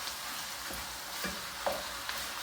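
Meat sautéing in a pan for stuffed zucchini, a soft steady sizzle with faint stirring scrapes and a few small pops, close and fairly quiet, no talking.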